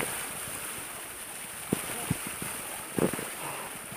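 Water rushing at Soloka waterfall in Assam, a constant broadband roar with a steady hiss, broken by a few brief, sharp splashes or knocks near the microphone.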